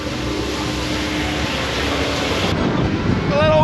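Strong wind on the open ocean aboard a black cod fishing boat, a steady broadband roar buffeting the microphone throughout, with a voice starting to talk near the end.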